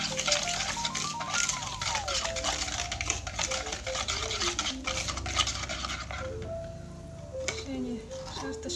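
A whisk or spoon stirs eggs and sugar in a bowl, making soft repeated scraping and tapping, with background music and some talk over it.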